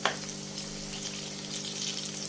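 Spoonfuls of vegetable pakora batter land in hot ghee in a pan that was used the day before. A soft plop at the start gives way to a steady, hissing sizzle of frying.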